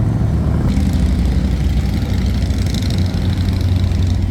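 Several motorcycles idle in a busy street in Keystone, a steady close rumble of engines throbbing low and continuous, with a slight rise in intensity partway through and no voices over it.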